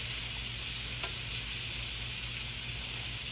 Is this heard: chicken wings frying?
yes